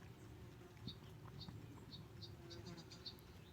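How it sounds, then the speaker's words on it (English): A large, heavy bee buzzes with loud, thick wing noise. The buzz comes in short repeated bursts, faint and outdoors, against a low steady background hum. "That was a heavyweight bee or something. He had a lot of wing noise."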